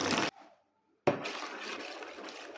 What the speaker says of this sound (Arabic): رح أحط عليهم كاستين من المي الدافية وأحركهم بسرعة لحد تفور عندي الخميرة